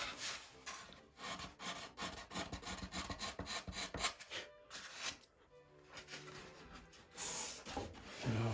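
Sandpaper rasps against the wooden fuselage of a .60-size Top Flite Gold Edition P-40E Warhawk model airplane in quick, close back-and-forth strokes, irregular in rhythm, with a short lull partway through.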